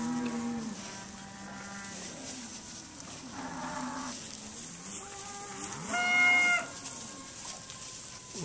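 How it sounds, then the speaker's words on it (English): A Brangus cow moos several times in a drawn-out, droning low voice, with a rooster crowing and other farmyard noise in the background and no talking. "And gentle cow, it's got like a great disposition."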